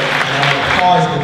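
Audience applause at a Class of 2018 graduation ceremony, a brief dense burst of clapping from the crowd with voices blended in.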